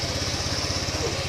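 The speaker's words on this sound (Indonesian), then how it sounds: "Pertama-tama kita panaskan pasang mesin." A Honda PGM-FI motorcycle engine idles close by while it warms up, giving a steady low, rapid put-put pulse under a hissy background.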